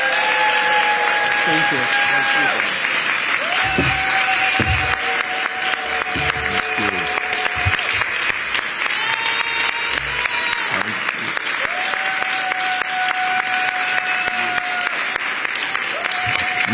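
A loud Brooklyn Museum crowd claps and cheers steadily for the New York City mayor, the dense applause continuing throughout while someone speaks briefly over it.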